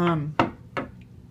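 A camera on a sewing table is bumped by hand, giving two sharp knocks about half a second apart just after a short burst of a voice, with a faint tick trailing after.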